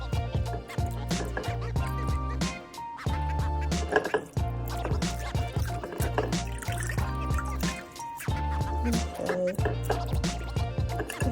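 Sea moss rinsed under running water, with splashing, dripping and trickling in irregular bursts close by, and a voice speaking briefly.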